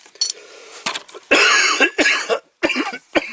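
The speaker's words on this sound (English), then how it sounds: "It's blasted cough." Several harsh, close coughs come in quick bursts with short pauses between them, loud and alone apart from a light clink or two in the background.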